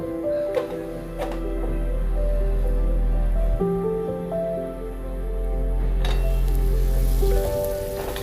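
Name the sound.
water boiling in a covered pot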